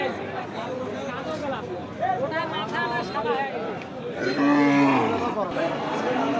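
Large bulls at the Ranibandar cattle market: a single loud, drawn-out moo rises near the end, over the busy chatter of a crowd with people talking nearby.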